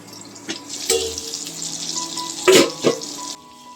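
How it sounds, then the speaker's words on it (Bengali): Ridge gourd pieces frying in a pan, a steady close sizzle with watery hiss from the moist vegetable, broken by a few sharper clatters of stirring or lid contact. "তো দেখো ঝিঙ্গেগুলো কি সুন্দর হয়ে ফ্রাই হচ্ছে"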